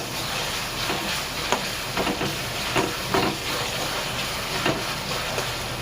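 Onions frying in a little oil in a pan give a steady, loud, close hissing sizzle, broken by brief scraping stirs at irregular intervals, with no talking.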